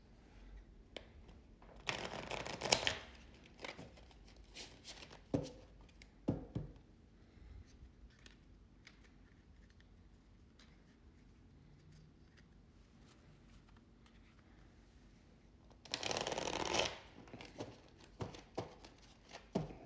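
Two bursts of tarot cards being riffled and shuffled, with quiet handling and light taps between them, close up.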